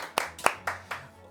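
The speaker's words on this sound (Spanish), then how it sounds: "gracias, fuerte el aplauso por estar." Applause from a church audience: a handful of sharp, distinct hand claps spaced out over about a second, close and fairly clear, trailing off quickly.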